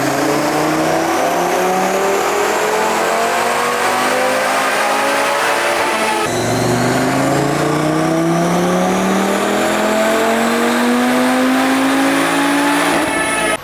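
A 2024 Audi RS3 on a dyno, run at full throttle on 91-octane fuel, roars loud and close as its engine climbs steadily through the revs in two long rising pulls, with a brief break and drop in pitch between them.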